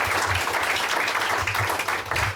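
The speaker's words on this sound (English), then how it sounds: "let's give a round of applause for Melissa and her time here" An audience at a breakfast club meeting gives a sustained round of dense applause, with a low rumble underneath and a few voices faintly in the mix.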